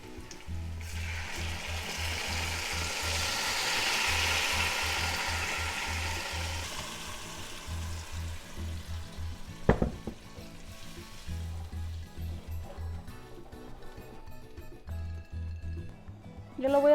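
Ground morita chile sauce frying in a pan with browned pork ribs, a steady broad sizzle that swells early, then settles under a low pulsing hum, with one sharp clink partway through.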